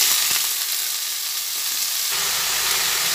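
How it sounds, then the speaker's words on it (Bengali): Snake gourd pieces fry in hot oil with black cumin and dried red chilli, giving a steady, close, loud sizzle and hiss that carries on unbroken throughout, with no talking. "চিচিঙ্গাটা তেলের মধ্যে দিয়ে ভেজে নিচ্ছি।"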